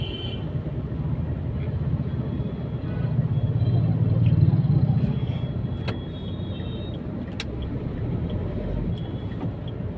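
Road traffic jam on a busy street, a steady low rumble of idling cars and engines close around, swelling briefly in the middle, with a couple of faint distant horn taps.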